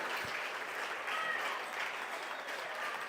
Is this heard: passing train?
no